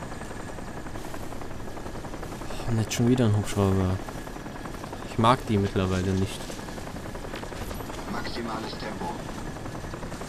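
Helicopter in the game Crysis, a continuous faint rotor drone in the background while someone talks over it in short bursts.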